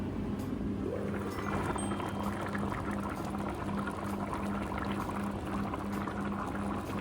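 Gochujang stew with tofu simmers in a covered pot, giving a soft, steady bubbling and burbling over a low, constant hum, quiet and close, with no talk.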